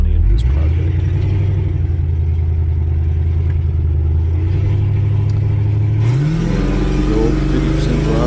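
A budget LS-swapped squarebody C10 truck with a stock LS V8 rumbles loudly, then revs up hard near the end, a steady low drone rising in pitch with some clatter.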